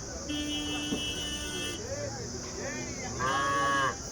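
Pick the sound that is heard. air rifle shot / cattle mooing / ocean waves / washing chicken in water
cattle mooing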